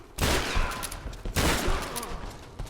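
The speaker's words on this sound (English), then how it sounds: "Well, we have a new weapon, the shotgun." Two loud, close shotgun blasts in the Tomb Raider video game, each a heavy boom with a long rumbling tail, spaced about a second apart.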